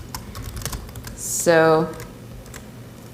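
Rapid typing on a work laptop keyboard, with soft, quick key clicks running under a voice that speaks briefly.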